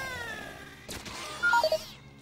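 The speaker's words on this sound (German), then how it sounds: "das ist zumindest eine Katze" A cat meows in a video game, a couple of short, clear calls near the end after a brief burst of other game noise, fairly close and alone with no speech.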